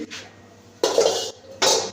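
A metal wok clanks and scrapes against a hard surface in a few short, sharp bursts, close up in a quiet room, as it is set up with oil for cooking.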